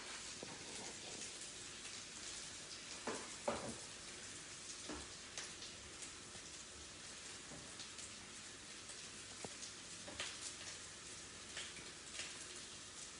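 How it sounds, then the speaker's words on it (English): Green chili frying in a pan for a Parsi potato and egg dish, a faint, soft, steady sizzle with scattered small pops and crackles. "So I put in the green chili. Just letting it cook to a little light brown."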